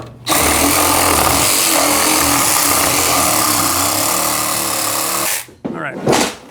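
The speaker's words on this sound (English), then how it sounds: "I'm just going to take the Sawzall to this plate for now" A reciprocating saw cuts through a wooden plate during basement demolition, loud and close with a harsh buzzing roar for about five seconds, then it stops abruptly and a voice speaks.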